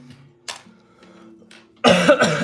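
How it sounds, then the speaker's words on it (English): A person coughs harshly in a short burst near the end, loud and close, after a stretch of faint low murmuring and small background sounds. "when I talk really quickly, sometimes I start coughing"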